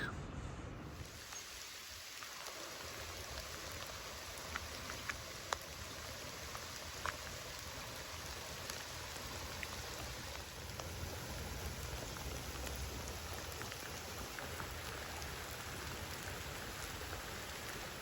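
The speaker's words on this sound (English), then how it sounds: "all of a sudden it started to rain again, sprinkling a little bit" Light rain patters steadily on a surface by a creek in the Uwharrie area, a soft continuous hiss with occasional louder individual drops, calm and without voices.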